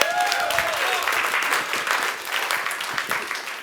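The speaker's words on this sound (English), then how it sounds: "Everyone give Tom a round of applause." Audience applause at a Christmas party magic show, steady dense clapping from a crowd filling the whole stretch at even volume.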